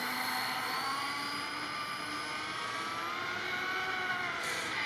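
A JLB Racing Cheetah 21101 RC car on a speed run, its electric motor whining in a steady high-pitched drone that holds and shifts slightly in pitch, loud and close throughout with no talking.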